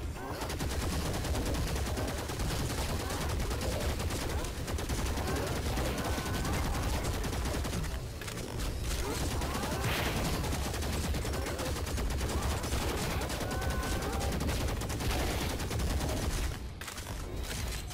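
Sustained rapid gunfire in the shooter game Action Commando, dense automatic bursts running loud and nearly continuous for the whole stretch with only brief dips.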